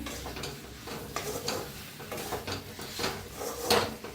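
Stuffed brinjal masala being mixed in a pan, soft scraping and clinking of a spoon against metal in irregular strokes, close and moderately quiet, with no one speaking.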